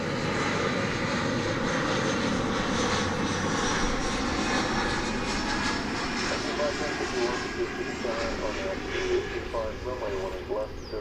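American Airlines jet airliners at DFW Airport produce a steady, broad engine roar that stays loud and constant throughout, with a low rumble underneath and no clear pauses.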